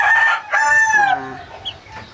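A three-month-old chick calls out loudly and close, giving a couple of drawn-out, high-pitched cries in quick succession with a brief quieter pause between them.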